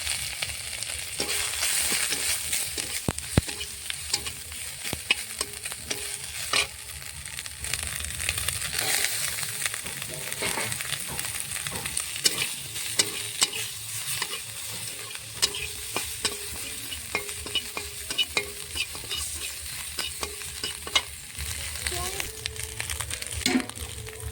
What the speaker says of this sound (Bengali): কড়াইতে কিছুটা সর্ষের তেল দিয়ে দিয়েছি দিয়ে দেবো ফোড়নে আদা কটা কাঁচা লঙ্কা